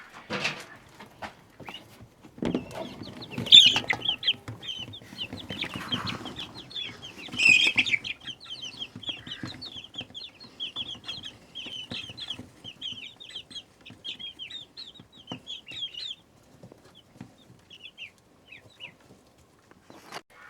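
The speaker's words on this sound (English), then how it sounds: "And then here's my chicks right here." A dense chorus of high, rapid peeping from many chicks in a brooder, continuous and close, with occasional rustling and a few wing flutters.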